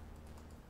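A computer keyboard key is pressed while playing Warframe, giving a few quick, close, soft typing clicks over a steady background hum.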